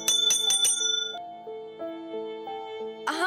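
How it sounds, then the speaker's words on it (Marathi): A hand bell rings four quick bright strikes, then a lingering tonal ring with shifting pitches, fairly close and clear with no talking. "तेव्हा तुम्ही फक्त ही घंटी वाजवायची."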